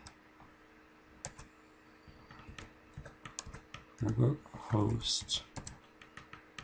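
Keys clack on a computer keyboard as a web address is typed, sparse light taps throughout with someone speaking briefly over the middle of the clip.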